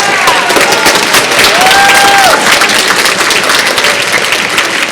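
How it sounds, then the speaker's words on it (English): A fall choir concert audience gives a loud, sustained round of applause, dense clapping with a few whistles and cheers rising over it, filling the hall with no speech. "Everyone, please give her a big round of applause."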